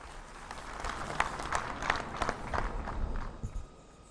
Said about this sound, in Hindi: दोस्तों, जोरदार तालियों से स्वागत करें।